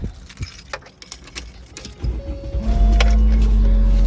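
A short jangle of keys clinks a few times, then an engine starts and settles into a steady low hum.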